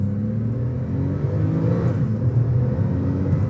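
A Porsche 911 Turbo engine pulls hard under turbo boost, a deep, steady rumble that swells slightly as it accelerates, heard from inside the car with no talking.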